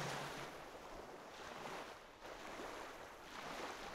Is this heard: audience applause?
no